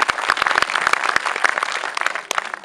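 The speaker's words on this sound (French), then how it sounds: "décidément, mais on peut l'applaudir" An audience at a sports club's season presentation claps for an absent announcer: dense, lively applause with many sharp individual claps standing out close by, steady throughout.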